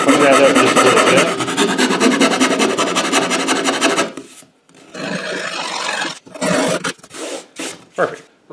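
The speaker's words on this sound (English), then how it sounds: "I'm going to take a half round rasp and clean that up just a little bit." A half round rasp files the uneven hole of a wooden corn hole board with close, loud, rhythmic rasping strokes, continuous at first and then broken into shorter bursts with pauses.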